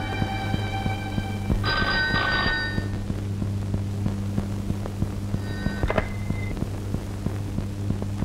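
An old telephone bell in an office scene from a Telugu film rings in two short bursts, the second fainter, over a steady electrical hum. No one speaks.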